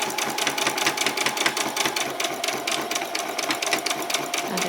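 A sewing machine stitches a straight dress seam in fast, even bursts of mechanical clatter, running steadily and close up with no talking.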